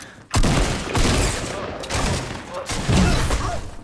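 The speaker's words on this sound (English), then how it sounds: "Bombs go off." Loud gunfire and bomb explosions from the Fortnite video game arrive as dense overlapping booms and rattling bursts in several heavy waves, close and dominant, with voices underneath.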